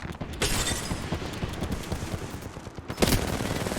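Rapid bursts of video game gunfire crackle throughout, dense and loud, with a heavier volley swelling near the end; no one speaks over it.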